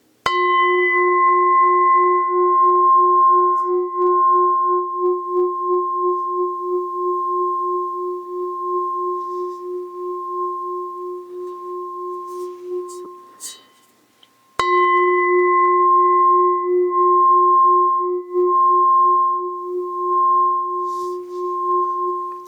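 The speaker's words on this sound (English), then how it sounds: "So I prefer rin bowls because they have a more pure tone, not as many overtones as you will get from a singing bowl." A rin bowl struck like a bell twice, each strike ringing out as a clear, pure sustained tone with few overtones, the first fading slowly to near silence before the second strike rings on alone.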